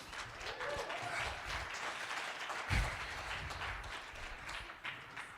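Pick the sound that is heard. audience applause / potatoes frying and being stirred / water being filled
audience applause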